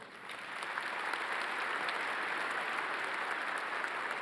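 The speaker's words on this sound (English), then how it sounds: "That is a remarkable accomplishment, which deserves a round of applause." A commencement audience applauds an accomplishment, a dense, steady wash of many hands clapping at once that swells in over the first second and holds evenly, with no voices over it.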